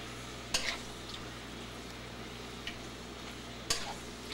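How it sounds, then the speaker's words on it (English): Meat stir-fried in a pan with ginger and greens: a quiet, steady sizzle with a couple of sharp scraping clicks as the food is stirred, without talk. "Stir it all up really good."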